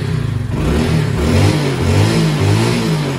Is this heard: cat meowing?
no